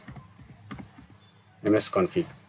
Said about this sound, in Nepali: विन्डोज र आर प्रेस गर्नुस् र टाइप गर्नुस् ms config